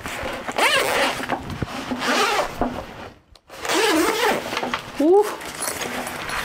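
Zipper pulled open on a Nanuk 935 camera bag, several quick close rasping runs with rising zip strokes, mixed with handling rustle and someone talking.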